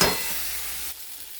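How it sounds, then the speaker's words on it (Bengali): Washed rice and lentils stirred and sautéed with spices in a hot pan for khichuri, a loud sizzle at first that fades after about a second, with no voices. "এবার আমি এই ধুয়ে রাখা চাল ডালটা দিয়ে দিচ্ছি। এটা একটুখানি ভালো করে কষি,"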